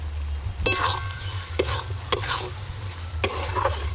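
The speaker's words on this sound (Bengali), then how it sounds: "হ্যাঁ মশলা কষা হচ্ছে।" Spice masala with tomato, salt, ginger and chilli paste sizzling in a pan, with several sharp spatula scrapes and stirs against the metal over a low steady hum, close and without talk.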